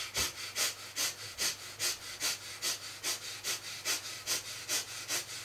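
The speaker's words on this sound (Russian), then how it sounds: "дыхание, очищающее полевую форму жизни" Rhythmic forceful breaths for a cleansing breathing technique, about a dozen sharp, evenly spaced exhalations, close to the mic and alone over a faint low hum.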